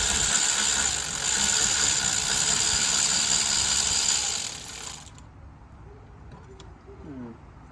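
A coil spring compressor is tightened on a strut suspension assembly, a loud continuous mechanical whirring like a power tool running for about five seconds before stopping abruptly, followed by faint quiet sounds and a brief voice.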